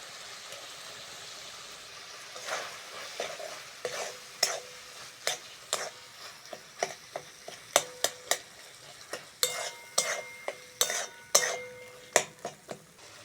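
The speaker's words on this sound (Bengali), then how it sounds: "মশলাটা ভালো করে কষে নিয়েছি" Ginger-cumin paste with salt, turmeric and chili powder fries in oil for aloo dum, a low sizzle punctuated by sharp spatula clacks and scrapes against the pot in an uneven rhythm, close with no talking.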